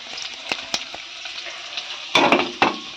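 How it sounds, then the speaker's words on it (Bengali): Potatoes fry in a pan with oil in a home kitchen, giving a steady soft sizzle broken by a few sharp crackles and stirring scrapes. A louder burst of spattering comes near the end. "আলু ভাজছি"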